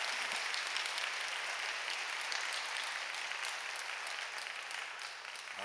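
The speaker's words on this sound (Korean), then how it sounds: "큰 박수로 환영하시지요" Loud, sustained applause from a large church congregation, dense clapping that holds steady for several seconds before easing slightly at the end.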